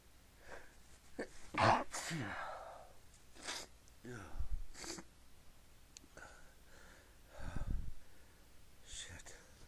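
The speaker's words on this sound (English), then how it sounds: "I have to sneeze again." A person sneezes in a bout, with a sharp loud burst near the start, further softer sneezes and sniffs, and quiet breathy vocal sounds between them.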